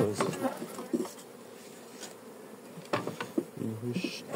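A honeybee colony swarms around an opened hive on the first inspection of the year, a dense, close buzzing of many bees with louder passes, accompanied by faint handling noises.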